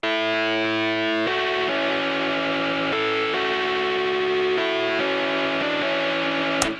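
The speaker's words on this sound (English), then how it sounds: "This instrument is actually just an electric piano" An electric piano run through distortion and chorus effects plays sustained chords and melody for indie game music, loud and continuous with no voices.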